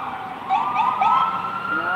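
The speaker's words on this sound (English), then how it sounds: "Okay, so we got one ambulance. Oh, fire trucks." Sirens from an ambulance and fire trucks wail continuously on a street in Vancouver's Downtown Eastside, rising and falling in steady sweeps over a busy urban background.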